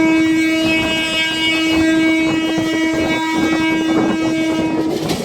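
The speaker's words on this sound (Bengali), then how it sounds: "ট্রেন মামা প্রচণ্ড গতিতে" A train roars past close by at speed near Shahidnagar Barikuto railway station in Bangladesh, a loud rumbling rush with a sustained tonal hum and rhythmic rattling of the wheels.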